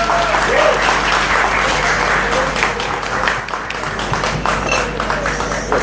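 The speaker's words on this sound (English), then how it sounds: "With a big round of applause," A crowd applauds a guest walking on stage at a live talk show event, a dense, loud, steady wash of clapping that runs the whole time with a few whoops mixed in.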